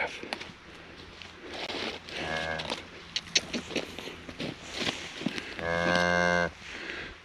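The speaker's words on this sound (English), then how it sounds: "Yeah, you's a new little calfie, huh? Just a new little calf." A newborn calf on a ranch lets out two drawn-out, nasal moos a few seconds apart, close by, with scattered footsteps, rustling and brief human voices between the calls.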